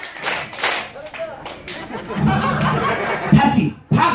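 Audience at a live Korean street performance in Ulsan clapping together in short bursts, mixed with chuckles and laughter and a performer's voice talking over the crowd.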